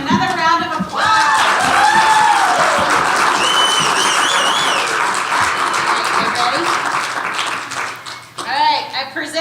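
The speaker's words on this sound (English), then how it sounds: "Give him another round of applause." Audience at a history class event applauds an Essentials class of 2018-2019, sustained clapping and cheering from a crowd, with children's voices and chatter mixed in, tapering near the end.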